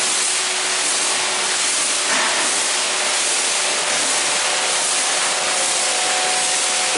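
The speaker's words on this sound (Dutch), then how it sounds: "Hier komt de stoom uit het uitloop." Steam blowing out of an outlet while a transport truck tank is being flushed and blown dry, a steady, loud broadband hiss with faint tonal lines that runs the whole time without letting up and with no talk.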